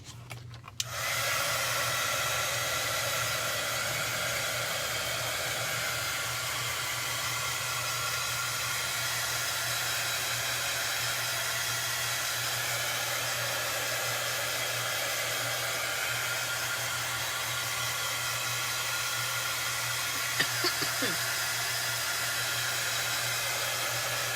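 A handheld hair dryer blows on a coat of paint drying on a Dollar Tree pizza pan, a steady loud whooshing roar that starts after a brief moment and runs unbroken and close for over twenty seconds, with no talk.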